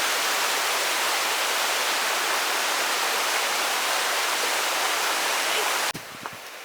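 A snowy winter creek rushes below a waterfall in a steady, loud, dense broadband roar close by, cutting off abruptly near the end into quieter ambience with a couple of faint knocks.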